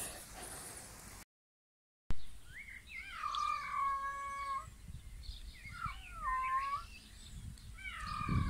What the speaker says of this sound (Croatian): Eto, mačka mi javuće.